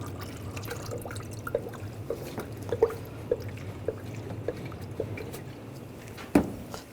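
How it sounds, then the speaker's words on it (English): A 50-50 coolant mix trickles through a funnel into the radiator of a 2004-2012 Chevrolet Colorado 3.7L, with faint liquid gurgling and a series of light drips and plops spaced about half a second apart. "We're going to add the appropriate coolant. You can use a funnel, makes it a little easier."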